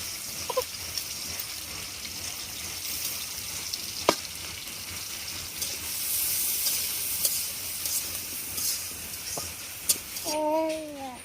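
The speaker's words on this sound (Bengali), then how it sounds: "আমার পেঁয়াজটা কিন্তু ভাজা শেষ" Onions frying in oil in a home kitchen pan, a steady low sizzle running throughout, with a few sharp clicks of utensils and a brief high squeak near the end.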